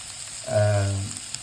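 Chopped onion fries in a pan while caramelizing for semolina upma, a short close sizzle swelling briefly under a steady background hiss.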